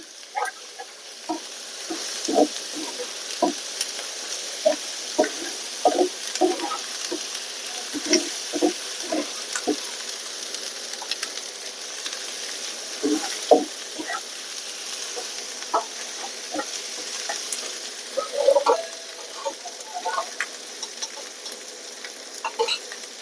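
Ginger and garlic sizzle steadily in hot oil, with frequent sharp scrapes and taps of a spoon against the pan throughout.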